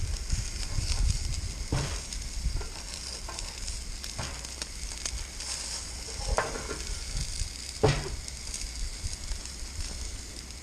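Onions cook on a griddle with a soft, steady sizzle, broken by a few sharp scrapes or turns of the food, fairly quiet and without talking.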